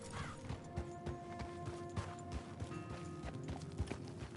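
Horse hooves clip-clopping steadily in the video game Red Dead Redemption 2, a fairly faint, regular trotting rhythm under low game ambience.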